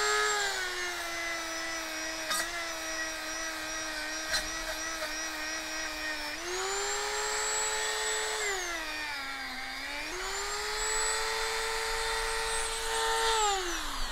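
A Dremel rotary tool spins at 10,000 RPM while smoothing a Lexus LX470 wheel, a loud continuous high whine close by whose pitch dips and rises as the load on the tool changes.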